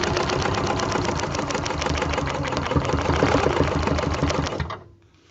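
A sewing machine stitching a log cabin quilt runs in a fast, steady, loud mechanical patter for several seconds, then stops abruptly into near silence.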